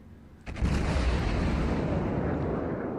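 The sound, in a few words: naval gunfire in World of Warships video game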